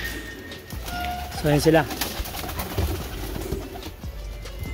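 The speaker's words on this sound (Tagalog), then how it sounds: "Ayan, gaya ng mga lalaking kalapate, marami na rin sila." Pigeons cooing in a coop: a few soft throaty coos stand out near the middle, with more low cooing scattered around it, while someone talks over the birds.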